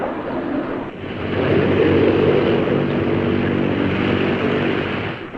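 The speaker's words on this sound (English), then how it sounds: "And so on until all 4 engines have been run up and checked." Piston engines of a TWA Lockheed Constellation airliner run up before takeoff, a loud, steady propeller drone that swells after a brief dip and holds at full power, close by and with no talk.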